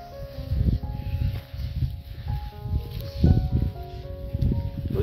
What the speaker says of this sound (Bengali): ঠান্ডা হাওয়া বেশ চলছে।